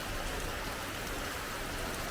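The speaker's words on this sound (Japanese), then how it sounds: "一部ちょっと雨が落ちてきますが" Light rain falls steadily in Lisbon, a soft, even hiss of drops on surfaces with no distinct individual impacts, faint and continuous.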